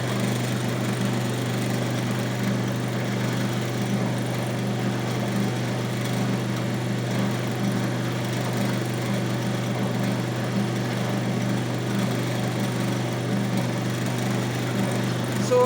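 A DC shunt motor runs steadily at about 1475 RPM, giving an even, continuous mechanical hum with a whine on top that stays at a constant level throughout, with no voices.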